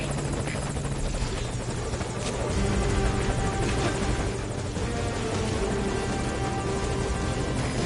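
Helicopter in the video game Metal Gear Solid V, a loud continuous rotor thrum and engine whine filling the scene close by, without a break.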